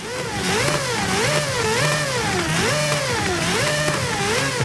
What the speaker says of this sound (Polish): Tutaj oczywiście mamy silnik Wankla.